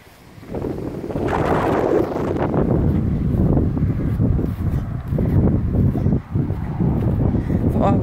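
Wind gusts across an open farm field where sheep are kept, rising after a quiet start into loud, continuous rumbling buffets on the microphone with brief lulls.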